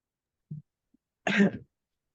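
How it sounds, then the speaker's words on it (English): A short throat sound followed by a single harsh cough, close and fairly quiet, with silence around it. "Sorry, I have a little cough."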